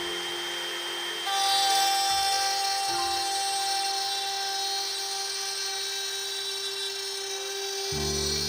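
A power saw cuts a single straight pass through a workpiece held by a five-clamp guide jig, a steady high whine with dense tonal bands running for several seconds, with a brief lower rumble at the start and end.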